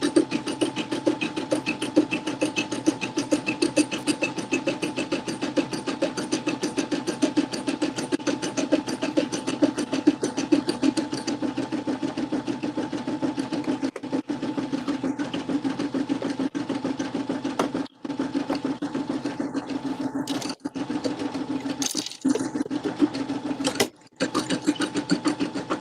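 Embroidery machine stitching a 4x4 denim pocket zipper pouch in the hoop, a steady fast mechanical whir running nearly continuously with a few brief pauses near the end, as people chat faintly in the background.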